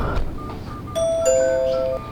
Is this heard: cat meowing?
no